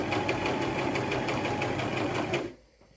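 A sewing machine runs steadily while stitching a face mask, a close, even mechanical whir with fast rhythmic needle clatter for about two and a half seconds before stopping abruptly.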